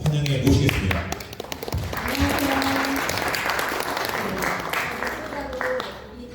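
An audience claps loudly to welcome musicians at an office opening ceremony, with dense, sustained applause that carries on throughout, and a voice is briefly heard at the start.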